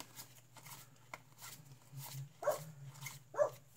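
A dog barks a few short, moderately distant times in a quiet room while trading cards shuffle and rustle softly.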